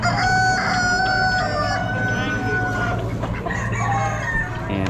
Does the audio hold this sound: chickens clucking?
yes